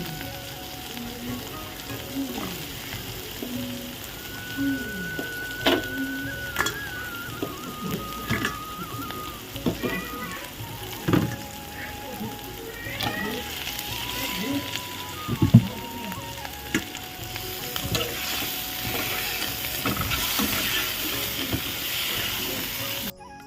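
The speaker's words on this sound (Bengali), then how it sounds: "আলু দিয়ে তারপর মশলার সাথে একসাথে ভালো করে এখানে ভেজে নিলাম।" Potatoes frying together with spice paste in a pan, a continuous sizzle with scattered stirring knocks and scraping clicks throughout, fairly close and moderately loud, with brief tonal sounds over it.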